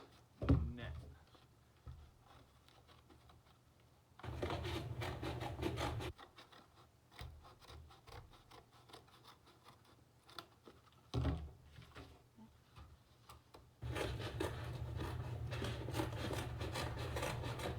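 Cardboard being pressed and flattened out from a triangular prism net, bursts of close crinkling and rubbing separated by quieter stretches with faint handling noises.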